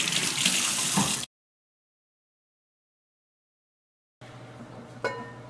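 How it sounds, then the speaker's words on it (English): Cold tap water runs into a sink while chicken thighs are rinsed, a steady splashing hiss that cuts off, falls silent for a few seconds, then returns with a clink. "So I'm just going to briefly rinse each thigh in some cold water here."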